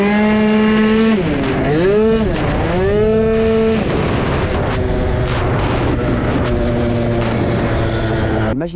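A ten-year-old tuned racing scooter engine revs hard close by, its pitch climbing, dipping and swooping several times before settling into a steady, loud, buzzing drone.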